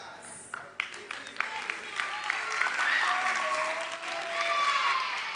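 Applause and clapping from an audience after a performance on a televised kids' talent show, building to a steady, loud roar over five seconds with some voices and cheers mixed in.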